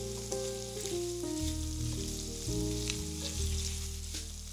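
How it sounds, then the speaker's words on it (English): Chicken thighs seasoned with salt, pepper and smoked paprika sauté in oil rendered from chorizo, giving a steady, gentle sizzle and crackle in the pan, with some faint tonal background sounds and no talking. "add the chicken thighs in, and you're gonna add in some salt and pepper and some more smoked paprika and let that saute"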